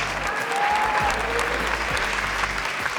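Strong, dense applause from an audience at an education-week event, filling the whole stretch at steady loudness with a low hum beneath.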